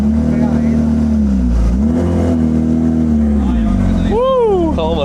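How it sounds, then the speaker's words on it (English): Porsche engine running as the car is rolled back onto dyno rollers, a low rumbling idle that dips and rises, ending with a quick rising revving whine, with someone talking over it. "Now we're gonna roll it back on the rollers."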